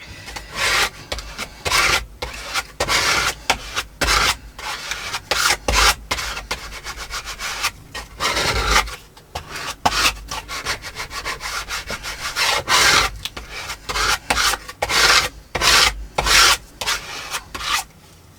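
Scraper dragging paint across a junk journal page, a rapid series of rough rasping strokes, close and loud, with brief gaps between passes.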